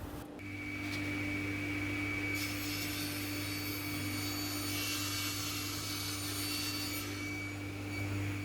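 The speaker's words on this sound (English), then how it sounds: "cutting the slab into 17 equal sections on the" A table saw starts with a steady motor hum and whine, then bites into a wooden slab being cut into equal sections, adding a loud rough rasp over the constant drone.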